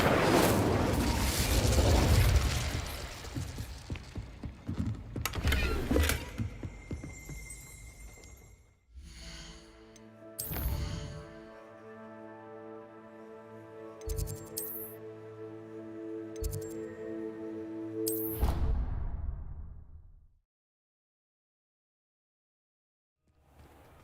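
The Incendio fire spell bursts in the video game Hogwarts Legacy with a loud whooshing blast, then layered magical shimmering and ringing tones with sharp impacts, fading into silence at the end.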